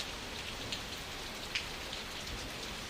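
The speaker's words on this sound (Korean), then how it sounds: "이 빗소리는 단순한 소음이 아니다." Steady rain falls in a soft, continuous hiss, with a few slightly louder drops standing out now and then.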